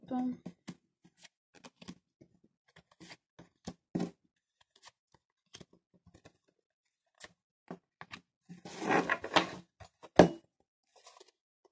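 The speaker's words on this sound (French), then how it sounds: "Je vais repositionner une nouvelle carte hein, sur chacune d'elles." Tarot cards are laid out on a table, giving a series of soft, scattered card slaps and shuffling rustles with a denser flurry near the end, heard close and moderately quiet.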